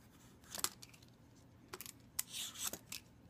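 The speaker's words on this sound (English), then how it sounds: "We're just going to peel the entire butternut squash, and it takes off that first layer" A regular vegetable peeler shaves the skin off a butternut squash in quick, crisp scraping strokes, a few separate swipes close and fairly quiet with no talking.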